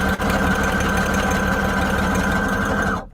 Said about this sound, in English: For this one, I'm using a wide zigzag stitch because I want it to reach